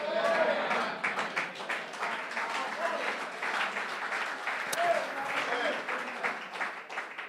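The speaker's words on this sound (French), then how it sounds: "J'aime la manière que vous avez applaudi." A church congregation claps together in a lively, uneven burst, many hands layered into a rough, pulsing roar that rises and dips throughout, with voices mixed in beneath the applause.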